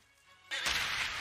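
A horse cries out sharply in an anime battle scene as it is cut down, a sudden loud, harsh burst over dramatic music that stays intense for the rest of the moment.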